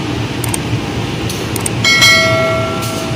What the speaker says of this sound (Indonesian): inilah kereta api yang berada di jalur 1 ini adalah kereta api lintas utara yang akan diberangkatkan dari stasiun Pasar Senen Jakarta